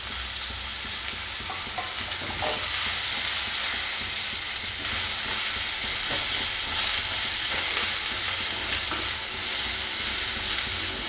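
Tomatoes and onions sauté in a hot pan with a bunch of curry leaves while cooking a chicken pepper fry. A steady, close sizzle hisses throughout with occasional stirring scrapes, and no one speaks.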